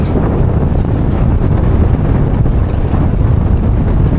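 Strong wind buffets the microphone outdoors on the water during a boat ride, a loud, steady roar that fills the whole clip without a break.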